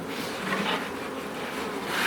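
Stingless bees buzz steadily around the entrance of their hive in an apiary, a continuous close hum with a few louder swells as individual bees pass near, no talk heard.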